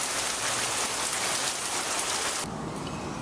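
Heavy rain pours down steadily during a storm, a dense, loud hiss that drops slightly in level near the end, with no voices.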